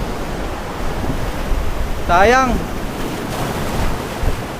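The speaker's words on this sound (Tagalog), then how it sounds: "Sasampa yung alon dito." Ocean surf surges and washes at a beach in Dibut, San Luis, Aurora, as a steady close roar with wind noise on the microphone and a brief spoken word in the middle.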